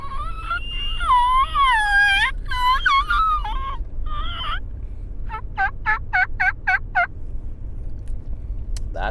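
A mouth or reed turkey call imitates a raspy Merriam's turkey gobbling and yelping, with a wavering cry followed by a quick series of short, sharp clucks, close and loud.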